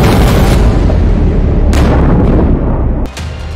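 An Iranian Fateh-110 missile launching and exploding, a loud, sustained roaring blast of dense rumbling noise with sharper bursts breaking through, and the roar easing slightly near the end.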